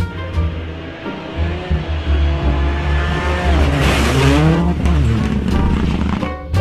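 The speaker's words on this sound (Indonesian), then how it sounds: "lihat di sini ada mobil balap" A red race car makes a loud, close engine sound that rises and falls in pitch with revving, swelling into a sharp peak around the middle before settling.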